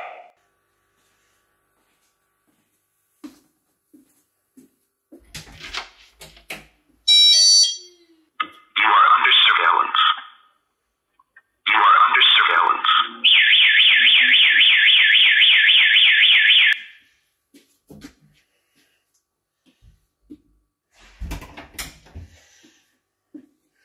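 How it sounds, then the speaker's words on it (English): A Dahua AirShield wireless alarm siren gives a few clicks and short beeps, then bursts of loud electronic alarm tone and a sustained pulsing siren blast lasting several seconds before clicking off. "the AirShield wireless siren"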